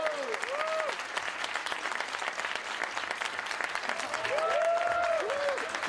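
Audience applause welcoming a singer onto a talk-show stage: steady, dense clapping throughout, swelling louder near the end, with a faint voice underneath.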